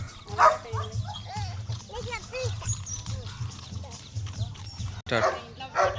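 Puppies yip and bark in short, high, excited bursts, with people talking over and between them.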